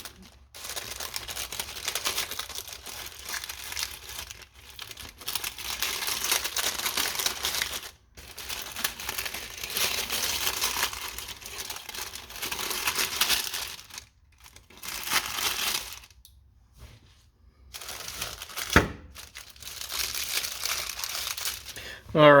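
Brittle old paper from a 1960s Peak Freans lifeboat ration crinkles and crackles close up in repeated bursts separated by short pauses, with a sharp tearing snap near the end.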